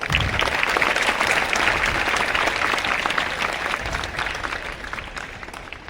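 A school audience at a Carmel Day and investiture ceremony claps loudly in a full, steady round that slowly fades toward the end. Individual claps can be heard within the crowd's rattle.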